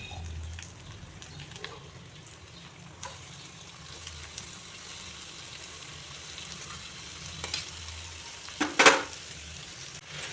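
Chunks of ash gourd frying in a pan of oil with turmeric, salt and fish curry spices, a steady close sizzle throughout that swells briefly near the end, with no talking.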